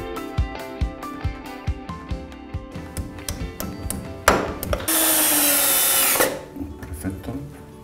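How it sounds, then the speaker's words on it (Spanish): A power drill runs during a home office remodel while a bracket is mounted, preceded by a series of rhythmic taps, then a loud sustained high-pitched whir lasting over a second before stopping, close to the microphone. "Paso el taladro por aquí."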